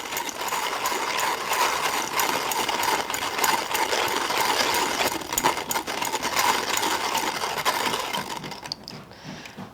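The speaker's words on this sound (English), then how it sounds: "it's a handheld grinder, so you're just actually turning it and grinding it." A handheld manual coffee grinder crunches beans as its crank is turned, making a continuous close rasping, ratcheting grind with fine clicking texture that stops abruptly at the end.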